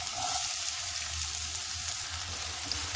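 Onion frying in about half a spoon of hot oil in a kadhai: a steady, close, bright crackling sizzle that holds evenly throughout, with no talking.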